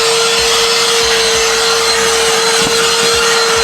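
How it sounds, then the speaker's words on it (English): A loud, steady vacuum cleaner whine runs throughout, with rough scraping and bumping as the nozzle moves across a car's carpeted floor. "So let's go ahead and vacuum because it's a mess under here."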